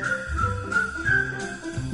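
A person whistles a cheerful tune, a sustained melodic line running steadily through the whole stretch, close and fairly loud with a soft musical backing underneath.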